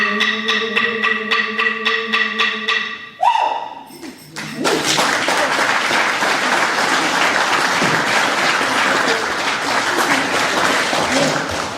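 Live music ends and a broadcast audience breaks into full, steady applause for a singer, loud and sustained through the rest of the moment.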